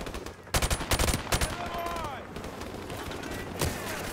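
Rapid bursts of automatic gunfire from Call of Duty: Modern Warfare Remastered, loud and close, crackling in quick clusters early on, then a steadier stretch and a later single sharp burst.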